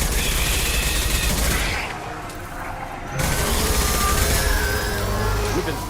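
Loud dense gunfire in Mass Effect 2 with an Impact Shot blast among it, rattling volleys that briefly drop to a quieter lull before resuming at full intensity.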